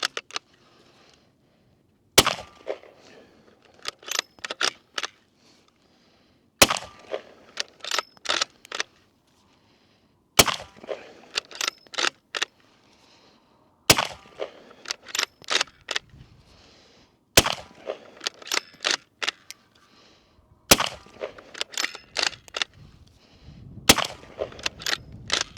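A rifle firing .450 Bushmaster rounds from an Amend2 magazine outdoors at a range: sharp, loud shots in repeated clusters of several quick reports, each cluster separated by a short pause, no talking.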